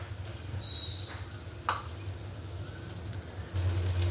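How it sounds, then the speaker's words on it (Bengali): Onions and green chilies frying in a pan, a soft, steady sizzling hiss with a low background hum and one or two light clinks, fairly quiet and without talking. "দিয়ে দিচ্ছি বেশ কিছু পেঁয়াজ, দিয়ে দিচ্ছি কাঁচামরিচ"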